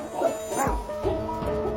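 Tibetan Mastiffs from a village fighting off wolves, with a few loud dog barks and yelps rising over a busy, noisy background.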